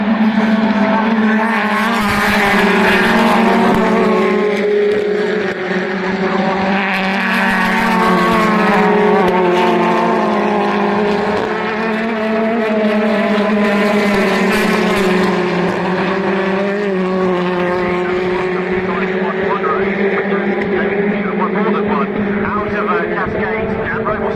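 BTCC touring race cars roar past the grandstand at Oulton Park, loud engine notes rising and falling as the pack sweeps by in succession, with a commentator talking over the continuous racing noise.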